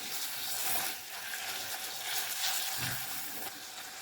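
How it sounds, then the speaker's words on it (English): Minced meat stir-frying in a pot gives off a steady, soft sizzle with faint scraping and stirring underneath, fairly quiet and continuous throughout, with no voice over it. "You stir fry the minced meat till it's no longer pink"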